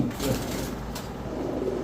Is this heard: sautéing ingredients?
no